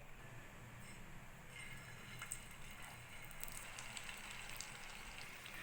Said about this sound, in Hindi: तो चलिए अभी वेज सोया कबाब शैलो फ्राई करना स्टार्ट कर लेते हैं